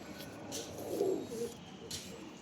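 Young teddy pigeon chicks make a low, soft cooing murmur, close by and steady for a couple of seconds over a faint hiss.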